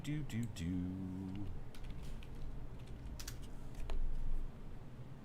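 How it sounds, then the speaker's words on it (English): Keys clatter on a computer keyboard in quick irregular bursts while a person talks nearby, with a brief louder stretch of tapping near the end. "Oh, I'm typing."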